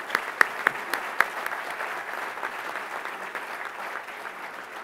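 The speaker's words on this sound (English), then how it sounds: "I think that deserves a round of applause" An audience at a conference opening session breaks into applause, a dense wash of clapping with a few sharp close claps at the start, holding steady for several seconds.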